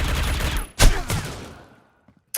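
Desert Eagle pistol fire in the shooter game C-OPS: a sharp, loud close shot followed by a second report and a decaying tail, then near silence and a final small click.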